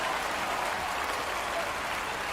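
Golf gallery in a PC golf game applauds a shot during a final round, a steady, dense patter of clapping at even volume throughout.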